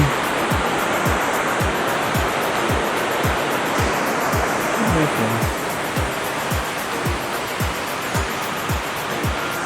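Waterfall in the Wulai forest area of Taiwan, a steady broadband rush of falling water that stays loud and close throughout, with faint rhythmic thumps from footsteps beneath it.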